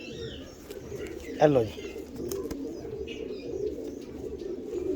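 Pigeons in a loft, white breeder pigeons, give a short burst of cooing up close, with faint chirps and a voice talking over soft background noise.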